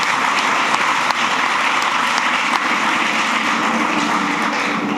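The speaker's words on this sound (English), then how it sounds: "let's really give them a round of applause" A full room keeps up a steady round of clapping for labor movement workers at the groundbreaking of the new LaGuardia Airport, loud and unbroken with a few sharper claps standing out.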